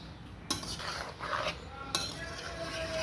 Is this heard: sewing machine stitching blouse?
no